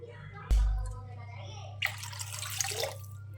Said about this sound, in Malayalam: ഇച്ചിരി കൂടി വെള്ളം ഒഴിക്കട്ടെ കേട്ടോ